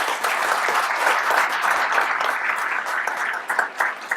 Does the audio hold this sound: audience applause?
yes